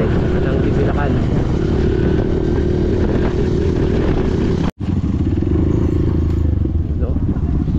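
A loud, steady outrigger motorboat engine drone runs throughout, cutting out abruptly for an instant before resuming; a voice talks faintly underneath.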